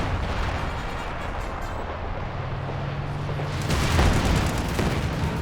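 An artillery barrage lands in Company of Heroes 2 during a multiplayer replay, a dense, continuous rumble of distant booms that swells louder toward the end, with no clear gaps between impacts.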